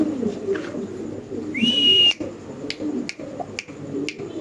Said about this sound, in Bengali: ব্ল্যাক জেএনএস কবুতর